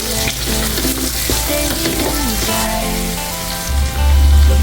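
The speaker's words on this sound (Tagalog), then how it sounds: "Start na po tayo mag-isa ng ating bawang, sibuyas Tagalog, at yung stock ng onion leeks." Garlic, onion and leeks sizzle and fry in a pan, a loud continuous crackling hiss with occasional scraping stirs and clinks, close up and heard alone.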